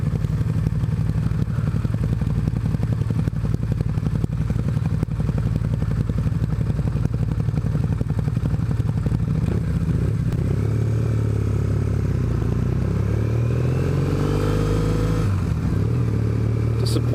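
A Ducati motorcycle idles steadily nearby, then pulls away near the end with a brief rise in engine note, sounding fairly subdued and without any talk.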